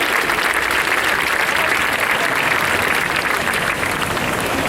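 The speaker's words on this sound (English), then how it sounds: "So give a round of applause for yourself." A protest crowd gathered outdoors over the Zimmerman verdict breaks into loud, sustained applause, a dense even wash of clapping with faint voices mixed in.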